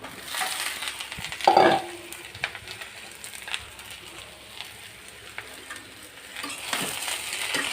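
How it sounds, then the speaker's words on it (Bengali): Snake gourd stir-fried in a pan, with a soft sizzle and occasional scraping stirs close by, one brief louder clatter early on, no voices. "চিচিঙ্গা দিয়ে তারপর হচ্ছে যে নেড়ে চেড়ে দিচ্ছি"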